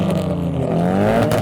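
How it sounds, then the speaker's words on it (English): Several V8-engined cars rev hard in a rev battle at a modified car show, loud and close, with rising and falling engine pitch over a continuous roar. "I can actually hear the V8 rev battle happening over there"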